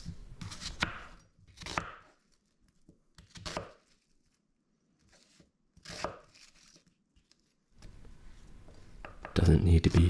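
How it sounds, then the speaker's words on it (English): A knife roughly chops an onion on a board, several short bursts of close cutting strokes separated by pauses, ending with a louder flurry of chopping. "We're going to chop up our onion into a rough chop."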